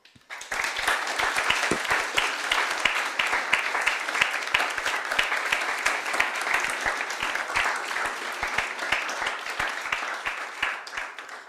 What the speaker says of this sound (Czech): velký potlesk také prosím pro naši porotu